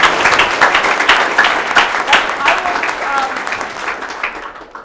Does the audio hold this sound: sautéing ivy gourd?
no